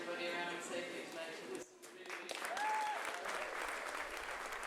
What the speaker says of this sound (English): So a great round of applause for Sonia O'Sullivan